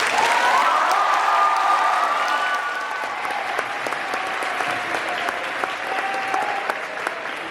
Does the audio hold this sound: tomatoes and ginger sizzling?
no